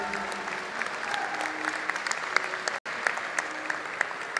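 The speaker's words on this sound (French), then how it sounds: "On peut les applaudir." Audience applause for team Vitality at a Rainbow Six Siege esports final, a steady dense wash of clapping with scattered louder claps, broken by a split-second dropout near the end.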